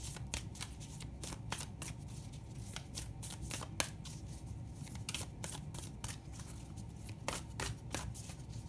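Medicine oracle cards shuffled by hand, a quick, continuous run of crisp riffling flicks and soft card slaps, faint and close, with no talking.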